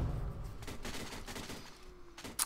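Rapid bursts of gunfire in the video game CS:GO crackle through a dense game mix, with a sharper, louder shot near the end; no talk is heard.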